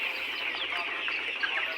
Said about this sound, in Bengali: আমাদের আরেকটা শেড লেয়ার পুলেটের, ওরাও কিন্তু ওই দেখেন শাক খাচ্ছে।